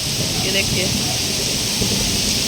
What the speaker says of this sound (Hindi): बारिश हो रही है एकदम